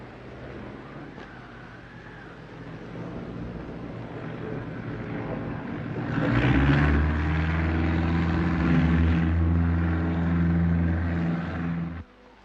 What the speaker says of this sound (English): in very cold weather they leave the engine ticking over